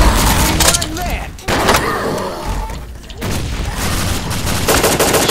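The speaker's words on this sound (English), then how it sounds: "The gun shooting seems sort of lame." Rapid automatic weapon fire in the zombie shooter BrainBread 2, including an AK rifle, loud bursts of shots in several volleys with a short gap, while a person talks over the shooting.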